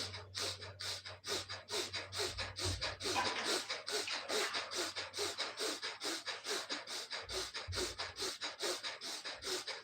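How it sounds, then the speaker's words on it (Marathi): Rapid, rhythmic bhastrika yoga breathing, forceful inhales and exhales at a steady fast pace, about two breaths per second, close and fairly loud, with no talking. "भस्रिका श्वास घेत श्वास सोडत"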